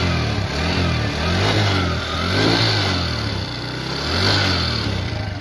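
A used Bajaj Discover 100cc motorcycle engine revs up and down in repeated waves, a close, loud mid-pitched growl rising and falling about three times with no talking.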